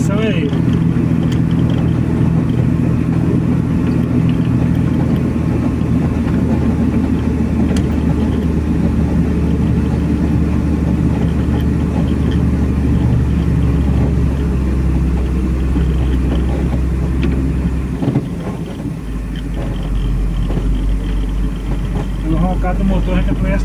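A Volkswagen 15180 truck with a six-cylinder engine labors up a mountain road. Its loud, steady, close drone holds for over twenty seconds, and the pitch drops briefly near the end as the load changes.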